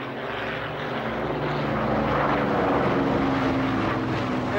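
A formation of propeller aircraft drones steadily overhead above a harbour, a loud continuous engine roar that swells slightly and holds throughout, with no talk.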